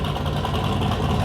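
A 4.8-litre junkyard LS V8 engine running on a dyno, a dense continuous mechanical roar that stays steady and loud throughout the short stretch, with no talking.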